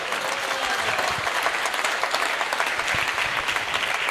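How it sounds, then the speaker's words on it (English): At a Bhagavad Gita class in a temple, the gathering gives a full, continuous round of applause for two presenters, close and steady with no speech over it. "Let's give them a round of applause"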